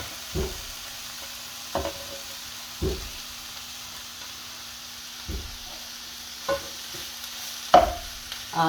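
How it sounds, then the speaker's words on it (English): Mushrooms and pulsed tofu stir-fried in a pan with cooked onions for spring roll filling: a steady close sizzle broken by regular knocks and scrapes of the utensil every second or so, with no talking. "Then we can add the mushrooms and the tofu."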